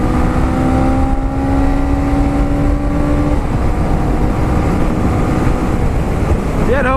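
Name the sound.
Honda CMX 500 Rebel motorcycle accelerating in first gear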